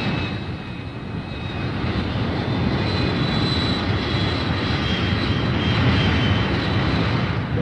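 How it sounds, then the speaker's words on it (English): Fighter bomber aircraft take off from a base, a loud, steady engine roar that builds slightly and holds without pause. "Back at the base, the fighter bombers take off."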